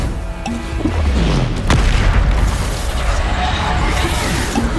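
A Bombarda explosion spell booms in Hogwarts Legacy, a loud deep blast that rolls into a sustained rumble, with in-game voices and effects layered over it.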